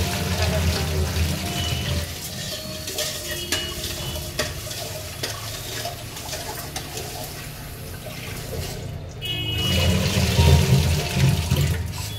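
Rice is washed under running water in a pot, a continuous splashing stream with stirring that swells louder toward the end.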